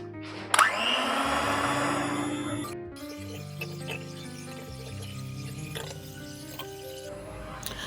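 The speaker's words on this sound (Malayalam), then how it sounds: "ഈ വിസ്കർ വെച്ച് ഇങ്ങനെ നമ്മൾ മിക്സ് ചെയ്യുമ്പോഴത്തേന് പാത്രം കറക്കി കൊടുത്താൽ മതി" An electric whisk beats cream in a bowl, a steady loud motor whine that starts abruptly, then shifts to a lower, rougher churning as the mixture thickens. It runs continuously for several seconds with no one speaking.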